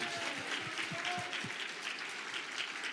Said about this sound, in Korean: 영광의 박수입니다